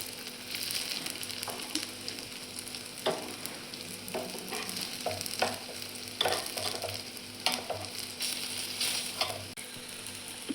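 A poha and besan snack sizzles steadily in a frying pan while the pieces are flipped, with repeated scraping and stirring strokes breaking through the continuous crackle.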